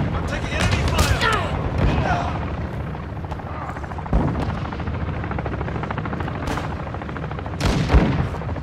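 Enemy gunfire in the shooter game Call of Duty Modern Warfare II, scattered shots and bursts cutting through a constant loud rumble like a helicopter, with voices talking over the battle.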